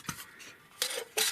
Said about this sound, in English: let's nest the cup in here without the covers